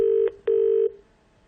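A phone line tone follows dialing a mobile number: two steady, low electronic beeps, the second longer, with a short gap between them, clear and close, with no talking.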